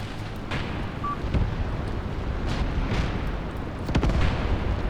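Mortar fire and explosions rumble through a battle in the Graviteam Tactics war game, a continuous low roar with several dull distant thumps and muffled booms.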